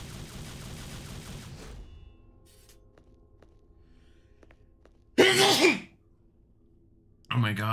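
During a game stream, one sharp, loud sneeze bursts out of a quiet stretch of faint background noise. Game sound plays at the start, and another short burst follows near the end.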